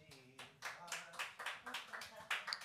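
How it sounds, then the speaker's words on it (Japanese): Faint, brisk applause from a small audience, with quick claps in a run of regular bursts. "拍手を。"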